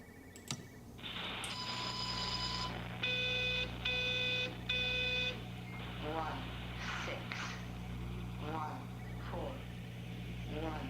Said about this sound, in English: Is that the sound of a phone ringing?